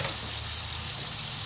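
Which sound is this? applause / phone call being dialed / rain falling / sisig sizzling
sisig sizzling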